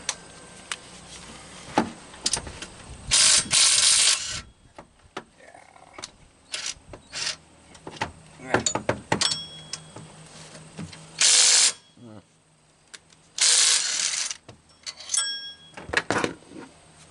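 Power tool spinning off 15 mm alternator bolts on a 2007–2014 GM truck, with several loud bursts of a few seconds each, separated by clicks, clanks and handling noises.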